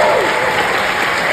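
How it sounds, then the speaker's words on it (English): A theater audience at a Beyond Fest screening of Shelby Oaks at the American Cinematheque applauds the film's cast and crew, a loud continuous burst of clapping from a full house. "give them such a round of applause, but also our cast"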